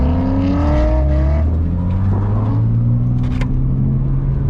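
A car on a drift track rumbles past close by, its engine revving and pitch shifting as it accelerates, a loud continuous motor drone throughout.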